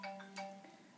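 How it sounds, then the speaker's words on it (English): A phone rings during a maths lesson, its melodic electronic chime sounding in a quiet room, with a couple of brighter tonal notes over a steady low hum, fairly faint. "Please ignore the phone ringing."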